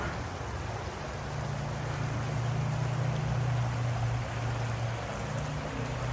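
A creek flowing outdoors, a faint, steady wash of moving water with a low hum underneath, continuous and without talk.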